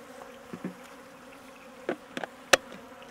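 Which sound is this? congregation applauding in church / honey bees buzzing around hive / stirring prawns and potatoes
honey bees buzzing around hive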